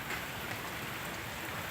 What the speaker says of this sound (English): With all the rain that turns your yard into a duck pond.